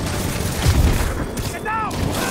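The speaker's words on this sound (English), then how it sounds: "Grenade incoming!" A grenade blast in Spider-Man Remastered lands as a short, heavy boom mid-clip over a busy game soundscape with ongoing voices.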